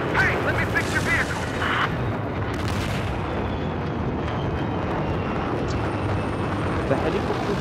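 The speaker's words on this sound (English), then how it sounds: "The helicopter is pushing down." A helicopter rotor drone and bursts of gunfire in the video game Battlefield 4, a dense continuous roar with sharp crackling shots early on, fairly loud throughout.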